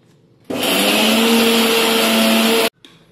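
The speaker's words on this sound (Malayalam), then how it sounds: "ഇനി ഇതെല്ലാം നന്നായിട്ടങ്ങ് അരച്ചെടുക്കാം" A mixer grinder whirs loudly at full speed, grinding salted mango into a curry paste, starting abruptly after a brief silence, holding a steady high whine for about two seconds, then cutting off sharply.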